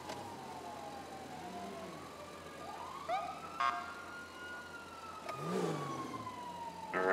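Police car siren wailing in GTA 5 FiveM Chicago PD patrol play, a long rising and falling tone running across the whole stretch, moderately loud over engine hum, with brief beeps and a louder burst near the end.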